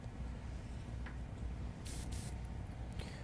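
An Iwata HPC airbrush sprays paint as a faint, steady hiss over a low background hum, with a couple of brief brighter bursts near the end.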